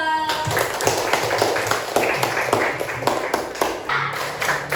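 Rhythmic group hand clapping for a 'tepuk toleransi' clap chant in an Islamic religious education lesson. Sharp, evenly spaced claps repeat in a steady pattern for several seconds, close and fairly loud, with chanting voices mixed in.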